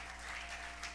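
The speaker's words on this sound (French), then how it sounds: "Est-ce que quelqu'un peut applaudir très fort pour le roi des rois?" Loud applause from a church congregation, a brief dense burst of clapping with no voices over it.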